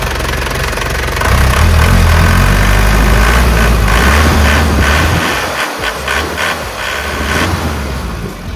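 A 1996 Panther Grand Royale with its original factory-tuned engine idles close by, a loud, steady low rumble with a slight rise in the middle and a brief clunk partway through, no voices present.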